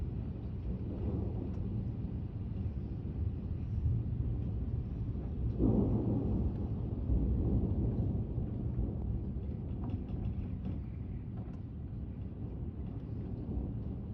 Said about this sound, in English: It's just constant thunder.